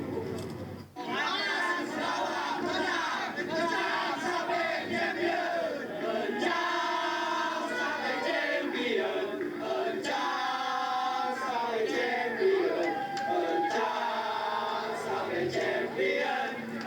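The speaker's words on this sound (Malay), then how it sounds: "Setelah melihat sorakan cantik penyokong Sarawak tadi" Sarawak football supporters chant and cheer in a crowd, a sustained loud roar of massed voices with rhythmic sung phrases throughout.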